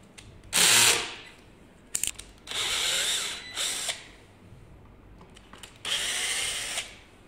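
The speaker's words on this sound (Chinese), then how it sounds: "更换控制器，第一步先把这两颗螺丝卸掉。" A power drill removes two screws from a controller, whirring in several short, close bursts with brief ratcheting clicks and small handling knocks between the runs.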